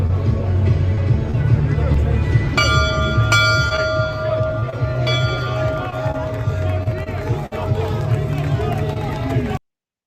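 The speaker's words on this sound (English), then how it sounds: "the ringing of the bell was kind of funny to me" A bell rings with sustained, shimmering tones over a crowded, noisy background of chatter and movement, its strikes repeating several times before fading.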